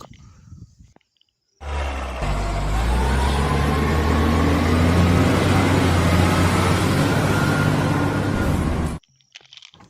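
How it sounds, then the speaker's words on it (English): A heavy container truck from a toy and vehicle cartoon gives a loud, steady engine roar that starts abruptly, holds for about seven seconds and then cuts off, with quieter sounds before and after. "Wow, this is a heavy container truck."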